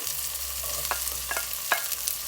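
Onion with chopped green chilli frying in a pan for a healthy green pasta, heard as a soft, close sizzle under a few scraping stirs and light taps, no voices.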